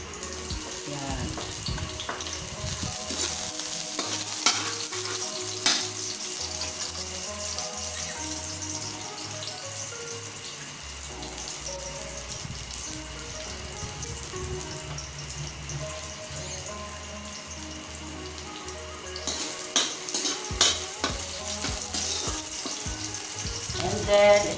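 Garlic fries in a pan with a steady, close sizzle and crackle while being stirred, irregular scrapes and knocks of the utensil breaking through; no one speaks.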